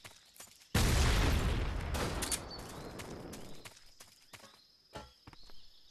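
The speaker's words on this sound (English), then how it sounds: "Everything blew up." A TNT explosion in Metal Gear Solid 3 erupts suddenly as a loud, booming blast, then rolls off into a long rumbling decay with scattered smaller crackles and thuds afterward.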